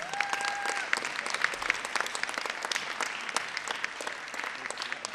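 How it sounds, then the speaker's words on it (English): An audience at a college outreach event gives a round of applause for an organizer, a sustained patter of many hands, moderately distant and even throughout, with a brief tonal sound near the start. "let's please give her a round of applause"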